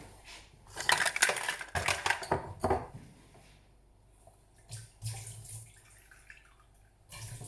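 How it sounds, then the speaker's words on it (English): Water and honey go into a baking mixture for Weetabix bites, heard as splashy pouring and clinking spoon-on-bowl bursts in the first few seconds, then quieter scattered taps and a final clatter. "I'm going to add 2 tablespoons of water and then 2 tablespoons of honey"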